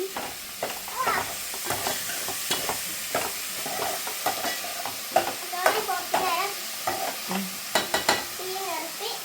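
Fish frying in a pan over a wood-fire stove, stirred repeatedly with scraping strokes over a constant crackling sizzle, with faint voices in the background.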